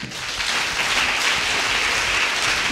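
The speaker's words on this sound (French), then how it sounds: "On peut applaudir Jésus puissamment" A church congregation at a Sunday worship service applauds Jesus, a broad, even roar of many clapping hands sustained throughout.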